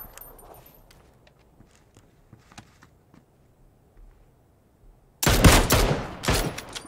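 SKS rifle shots crack out in quick succession near the end in the battle royale game PUBG, loud and sharp after a quiet stretch of faint footsteps and small clicks.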